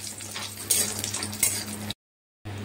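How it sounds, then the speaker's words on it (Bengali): Lentil dumplings (bori) frying in hot oil in a pan, a steady close sizzle with occasional stirring scrapes, cutting out abruptly near the end before resuming. "আর এটাকে এবার একটু লাল লাল করে ভেজে নেব।"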